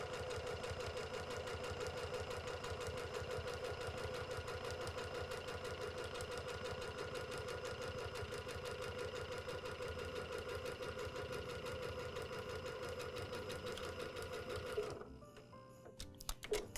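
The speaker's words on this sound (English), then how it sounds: "I'm just going to do a straight stitch. And sew on either side of my ribbon to secure it." A sewing machine runs a straight stitch along both edges of a ribbon for a fabric gift bow, its steady rapid needle rhythm loud and close and continuing without pause for about fifteen seconds before stopping abruptly, followed by a few faint handling clicks.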